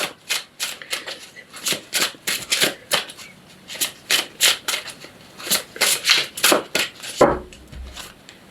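Tarot cards being shuffled by hand in a rapid run of crisp riffling bursts, close and fairly loud, with a brief low thump near the end.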